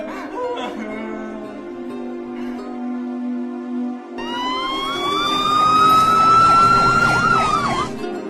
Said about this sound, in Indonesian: dari kejauhan terdengar suara sirine mobil polisi